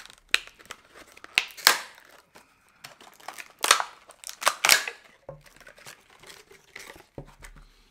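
Crinkling plastic packaging of a head torch and sharp snipping scissor cuts come in irregular bursts, close by, with short pauses between.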